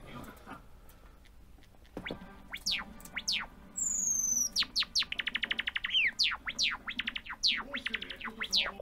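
A male bird giving varied calls during a courtship display with hopping dance: a rapid series of sharp chirps, whistled slides and a fast rattling trill, fairly close and clear over faint background hiss.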